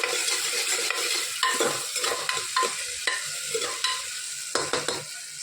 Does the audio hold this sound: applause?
no